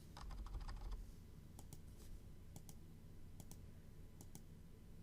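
Credit card details are typed on a computer keyboard as a quick run of soft key clicks followed by a few scattered taps, faint and close.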